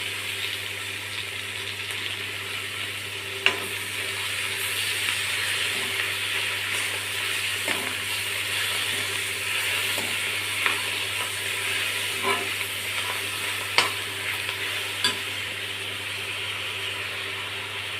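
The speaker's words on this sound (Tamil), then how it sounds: "கொஞ்சமாக சால்ட்டு, இப்போ இந்த மூக்கீரட்டை கீரையை இதில் போட்டுருவோம்." Homegrown leafy greens with a little salt frying in a pan, a steady close sizzle running throughout with occasional faint clicks of stirring, no voices.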